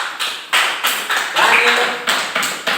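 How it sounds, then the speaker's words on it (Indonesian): Applause for a student in a classroom: a series of sharp hand-clap bursts, about eight separate loud slaps at an uneven rhythm, close by, with some voices underneath. "Tepuk tangan buat"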